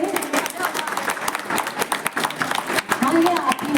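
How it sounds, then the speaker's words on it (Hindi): A crowd at a weekly community workshop closing ceremony claps loudly and steadily, a dense patter of many hands, with voices mixed into the noise. "तो एक बार अपने लिए जोरदार ताली बजा दीजिए।"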